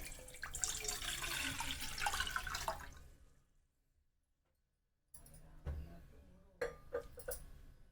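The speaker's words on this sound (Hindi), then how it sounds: "अब इसमें हम पानी डाल देंगे" Water is poured into a pot on a gas stove while melting chocolate for Christmas sweets. A splashing pour runs for about three seconds, then it goes quiet before light clinks and kitchen knocks follow.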